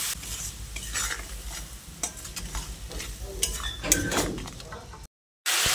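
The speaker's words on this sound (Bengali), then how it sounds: "তারপর অল্প একটু জল দিয়ে মশলাটাকে ভালো করে কষিয়ে নিতে হবে" A spice paste of coriander, turmeric and Kashmiri chili powder with a splash of water being stirred in a pan, spatula scraping and clinking against the pan over a soft sizzle, ending in a brief silence before cooking noise returns.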